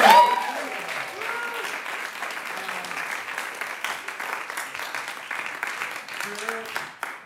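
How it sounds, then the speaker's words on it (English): A concert audience applauds a performer after a medieval counterpoint vocal set, steady clapping lasting several seconds with a few voices talking over it near the start and end. "Another round of applause for Julia May Jones."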